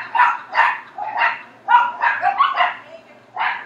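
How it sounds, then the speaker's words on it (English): Several dogs bark in short, clustered bursts, close and fairly loud, with yips mixed in and brief pauses between volleys. "I apologize for the dogs barking if you can hear them."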